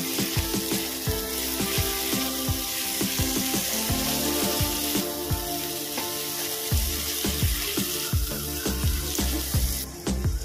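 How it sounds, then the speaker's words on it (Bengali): Chopped tomatoes fry in a hot pan, a continuous loud sizzle broken by frequent sharp taps and scrapes of a spoon stirring against the pan. "আমি এর মধ্যে দেবো কুচিয়ে রাখা টমেটো। এটাকেও আমি ভালো করে ভেজে নেব।"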